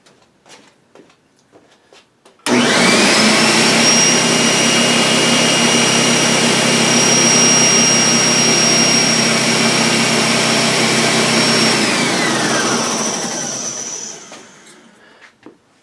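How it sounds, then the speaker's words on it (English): A DeWalt D55167 air compressor kicks on abruptly and runs at a loud, steady drone with a rising whine, then winds down near the end; no talking over it. "as I turn the air compressor on"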